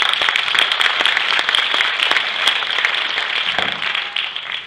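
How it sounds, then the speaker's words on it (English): Crowd applause at the RA.ONE Los Angeles film premiere, a dense, loud burst of many hands clapping with crisp individual claps standing out, continuing steadily throughout. "A big round of applause for him."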